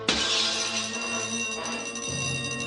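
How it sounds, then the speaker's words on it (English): A plate glass window shatters as a radio drama sound effect: a loud, close crash followed by a long tinkling cascade of falling glass shards. "I pitched the inkwell at a well-wired slab of plate glass window"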